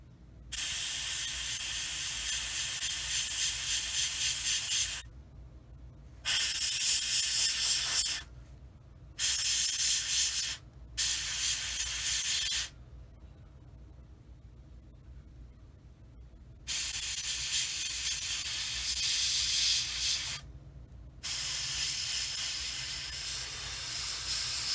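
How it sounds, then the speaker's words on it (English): An airbrush sprays camouflage paint onto a Tamiya 1/35 Sd.Kfz. 250/3 Greif model, giving close, bright hissing bursts of several seconds each. Short silent pauses fall between the bursts, with one longer gap in the middle. "this spraying this camo takes very little"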